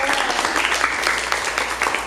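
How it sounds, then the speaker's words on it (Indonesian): Students in a classroom applaud their classmates, a short burst of close, brisk clapping from a group that is steady and fairly loud. "Tepuk tangan untuk teman-temannya."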